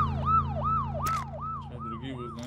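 Patrol vehicle siren in PUBG sounds as a loud, repeating rising-and-falling wail of about six quick cycles, close by, over a steady engine drone, with a short sharp noise burst partway through.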